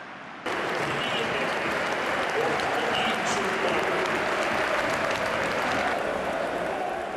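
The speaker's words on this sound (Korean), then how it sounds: "한국에서 온 축구 선수에게 기립박수를 보내는 아인트호벤의 관중들." Eindhoven stadium crowd giving a standing ovation to a Korean footballer at the end of a match, a dense, steady roar of applause that starts abruptly and holds loud and continuous throughout.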